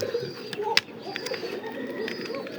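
Fancy and racing pigeons on a farm coo softly in the background, low rolling calls under a quiet room ambience with a few faint clicks.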